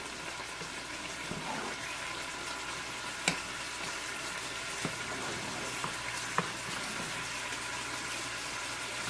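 Chili simmers in a pot while it is stirred, producing a constant soft bubbling sizzle broken by a few light clicks and scrapes of the spoon.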